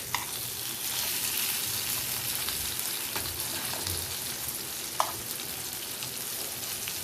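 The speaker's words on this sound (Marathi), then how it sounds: "आता हा पीस मी तळून घेणार आहे." A thick piece of surmai kingfish frying Malvani-style in a pan over medium heat, a dense, steady crackling sizzle with occasional spatula taps as pieces are turned.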